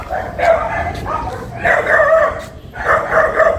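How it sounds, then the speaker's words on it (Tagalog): Dogs bark in three loud bursts of overlapping yapping, fairly close, with short pauses between the outbursts. "Kaya pala ang ingay ng mga aso"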